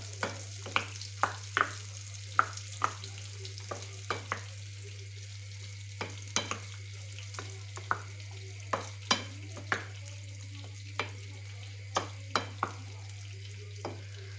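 A spoon stirs drained pasta into a yogurt mixture, giving irregular soft clinks and scrapes against the bowl over a steady low hum, with no talking.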